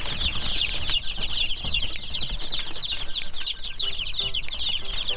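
A brooder crowded with over a hundred newly placed chicks, their high peeping chirps overlapping continuously and loudly at close range, with some scuffling and wing flutters underneath and no talk.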